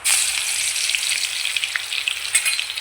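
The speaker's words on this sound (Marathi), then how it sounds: "तेल गरम झालंय आता आपलं ते आता जिरं टाकायचे नंतर लसूण" Cumin seeds and garlic sizzle hard in hot oil for dill greens stir-fry, a loud, steady crackling hiss with scattered pops throughout.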